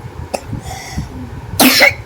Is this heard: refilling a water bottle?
no